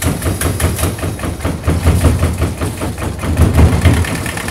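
A sailboat's engine runs loud and steady at idle, its rapid mechanical knocking pulsing evenly throughout with no talk over it.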